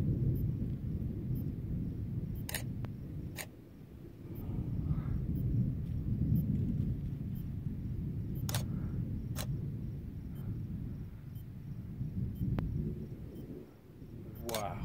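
Thunder from a lightning storm over Lafayette, Colorado, on the Fourth of July, a low rolling rumble that swells and fades continuously, with sharp camera shutter clicks and a few nearby voices.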